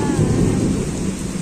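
Heavy rain pours steadily while thunder rumbles loudly and close, filling the short stretch without any voices.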